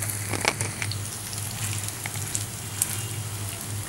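Fish cutlets frying in hot oil make a quiet, even sizzle with small scattered crackles and pops, with no other sound over them.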